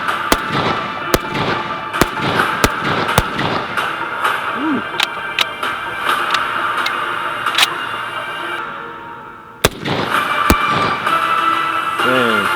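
An M1 Garand rifle fires a series of loud, sharp reports outdoors, several shots in quick succession followed by sparser spaced ones, with a distinct metallic ping partway through and another shot after a short lull.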